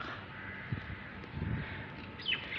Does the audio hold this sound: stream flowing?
no